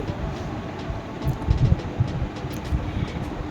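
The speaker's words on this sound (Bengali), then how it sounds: "বৃষ্টি কিন্তু ভালোই পড়ছে বাইরে আর হাওয়াও দিচ্ছে" Rain falling outdoors during a stormy day, driven by wind, a dense low rushing roar with gusty swells and faint patter, no speech.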